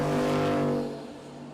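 A Ford Mustang and a Ford F-150 drag racing down the strip at Texas Motorplex, engines roaring loudly and close, then quickly dropping away as the vehicles pull off.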